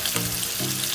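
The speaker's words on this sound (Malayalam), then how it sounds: "നമുക്ക് ഈ ചിക്കൻ ഒന്ന് ഫ്രൈ ചെയ്തെടുക്കണം." Chicken frying in a pan for chicken fried biryani, a constant bright hissing sizzle, close and steady, with a faint low hum underneath and no talking.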